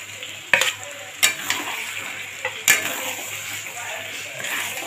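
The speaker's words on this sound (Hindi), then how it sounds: "अब जो हमने चिकन टिक्का बना कर रखा हुआ है उसे हम पूरा इसमें डाल देंगे।" Chicken tikka being stirred into a fried masala in a pan, with a continuous close sizzle and three or four sharp scraping knocks of the spoon against the pan, no voices.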